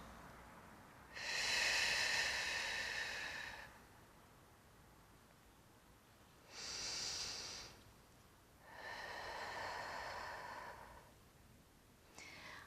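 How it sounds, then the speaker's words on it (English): Slow, controlled breaths during a Pilates core exercise, soft airy exhalations in three separate bursts with quiet pauses between, close and faint with no talking. "And then breathing out."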